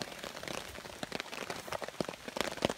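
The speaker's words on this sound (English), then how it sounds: "It's raining pretty steadily now, and apparently going to rain for, I guess, the next few hours." Steady rain patters on a trail campsite during an Appalachian Trail thru-hike, a dense, continuous spray of drops with many sharper taps striking nearby surfaces, alone and without talk.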